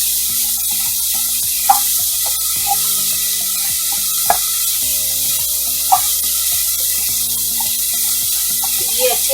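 Chopped carrot, cabbage and cauliflower stirred in a hot pan for spring rolls: a steady background sizzle with a spoon scraping and clinking against the pan every second or two, up close and fairly loud.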